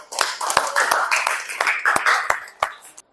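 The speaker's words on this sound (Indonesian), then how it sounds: "Sekali lagi kita mungkin berikan aplaus dulu untuk diri kita" A classroom of students applauds together in a brief burst of close, lively clapping with sharp individual claps, lasting about three seconds before stopping abruptly.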